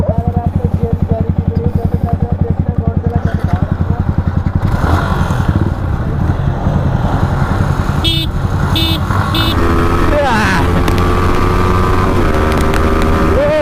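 Loud Yamaha MT-15 and R15 motorcycle engines revving hard and roaring as they accelerate in a drag race, with a couple of short horn-like bursts in the middle.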